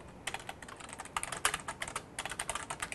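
A computer keyboard is typed on in steady bursts of quick, close keystrokes, with short irregular pauses between clusters of taps and no voices over it.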